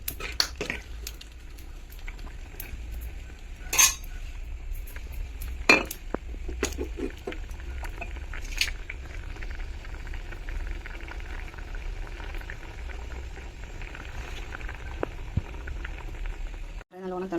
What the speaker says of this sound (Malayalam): നല്ലോണം തിളച്ച് വരുന്നുണ്ട്.